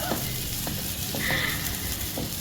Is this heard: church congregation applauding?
no